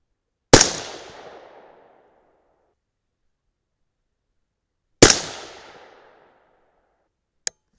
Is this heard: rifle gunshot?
yes